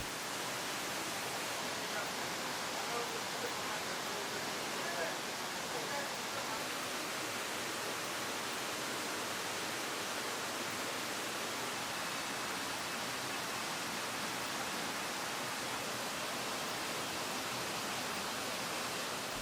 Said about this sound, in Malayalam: ഈ റിസോർട്ടിൻ്റെ മെയിൻ ഹൈലൈറ്റ് ഈ വെള്ളച്ചാട്ടമാണ്.